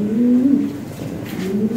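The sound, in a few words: white Lahori pigeons cooing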